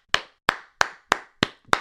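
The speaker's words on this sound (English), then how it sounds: "Giving myself an applause for that one." One person claps six times at a steady, slightly uneven pace, each clap sharp, close and dry, with brief silence between them.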